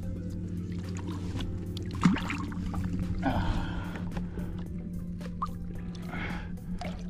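A fish is released into cold water: a brief watery splash and some dripping over a steady low boat engine hum, with a second soft splash a few seconds later.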